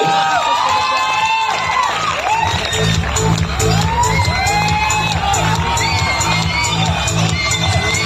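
A student audience at a medical institute program cheers loudly, with shouts, whoops and clapping in a dense, continuous roar, while voices call out above it.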